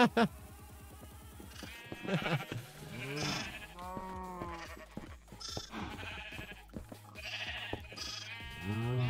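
Sheep in a video game bleat repeatedly in wavering, nasal cries, several overlapping calls close by, with a voice talking between them.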